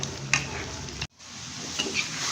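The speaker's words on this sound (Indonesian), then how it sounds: "Oke, saya goreng hingga kecoklatan." Perkedel, Indonesian potato fritters, fry in hot oil until browned, giving a steady dense sizzle with a few light stirring scrapes and a brief dip in the noise partway through, close up and with no talking.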